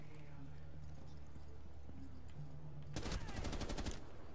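Gunfire in Rainbow Six Siege: after a quiet stretch of faint game ambience, a short rapid burst of shots rings out near the end, sharp and close.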